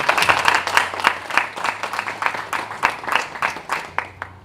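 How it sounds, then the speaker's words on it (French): An audience applauds an artist at a premiere event, with moderately loud, evenly paced clapping that stays dense for several seconds. "Est-ce qu'on peut déjà applaudir très fort pour l'artiste?"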